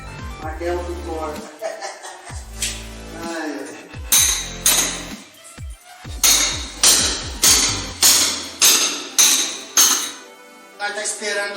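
Close, loud hammer strikes ring out during home renovation work, starting sparse with metallic clinks, then settling into a steady rapid series of blows, with a person talking between them.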